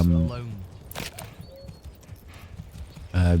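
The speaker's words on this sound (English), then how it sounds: "oh, nice horse neigh" A horse in the video game Manor Lords gives a short whinny, then hooves clip-clop steadily on the ground at a walking pace, ending with another brief neigh; close and clear.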